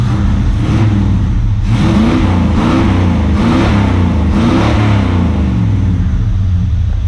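A loud, deep 351 V8 engine in an XC Ford Falcon wagon rumbling close by, revved several times in rhythmic surges that rise and fall over a steady idle, fitted with a new 600 CFM carburetor.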